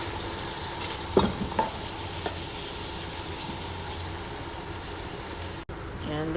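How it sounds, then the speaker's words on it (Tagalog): Onions fry in ghee and cooking oil with a constant crackling sizzle, a few sharp utensil knocks near the start and a clatter near the end. "Lagay na natin tong sibuyas. Lutuin natin hanggang sa mag golden brown siya guys."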